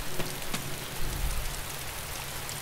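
Steady rain in the DayZ video game, a dense wash of patter heard alone with no voices over it.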